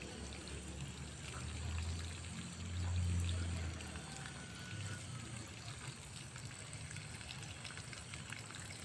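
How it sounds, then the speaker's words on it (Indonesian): Water pours steadily onto freshly repotted rose soil at close range, a soft continuous splashing trickle that swells briefly a couple of times. "kita siram sampai basah."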